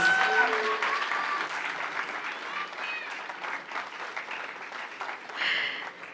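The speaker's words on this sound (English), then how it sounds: "Ladies and gentlemen, a huge round of applause for Manav Parekh, please." An audience at the Nilgiris Roots Festival, a Tamil Nadu tourism event, breaks into applause, a dense wash of clapping with a little voice and music over it, swelling again near the end.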